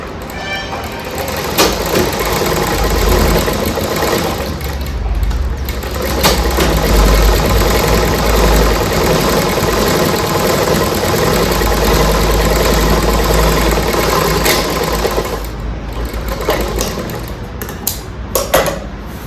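An electric sewing machine stitching a lined blouse sleeve runs with a loud, continuous motor hum and stitching rattle, with a brief dip near the end and a few sharp clicks as it slows.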